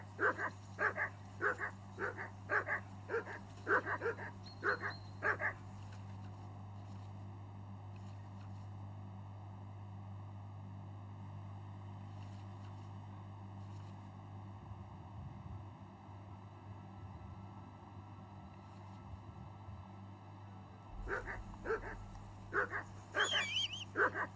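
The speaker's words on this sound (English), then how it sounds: "I assume you can hear that damn dog of yours barking." A dog in the video game Kingdom Come: Deliverance II barks in a quick, repeated series at the start. After a long stretch of low droning ambience, a fresh run of barks and yips follows, clear and fairly close.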